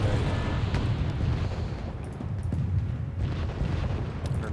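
Missiles striking and blowing up a ship in the strategy game Wargame Red Dragon, a dense rumbling roar of explosions with scattered crackling pops, loud and sustained without speech.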